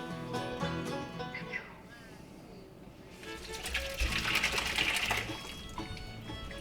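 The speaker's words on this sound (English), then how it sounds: "I'm gonna pour that right in here." Curds and whey are poured into a cheesecloth on a farm, a soft liquid splash and rush that swells midway and then tapers, following a stretch of quieter sound, with faint voices around.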